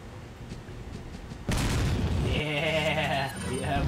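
Grenade explosion in the Resident Evil 4 video game: a loud booming blast hits abruptly and rolls into sustained rumbling debris over game music, with a voice briefly heard beneath.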